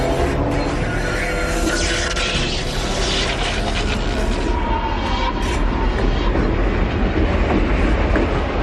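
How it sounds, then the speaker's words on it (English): A subway train rumbles steadily along the tracks with a continuous low roar and rattling, loud and close throughout. "Excuse me, does this train go to Melrose?"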